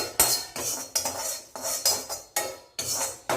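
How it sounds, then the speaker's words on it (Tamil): Cashews and almonds dry-roast in a pan without oil, with about eight rhythmic metal scraping strokes of a spoon, each a short rattling sweep, close and clear. "எண்ணெய் விடாமல் வறுத்து எடுத்துக்கோங்க"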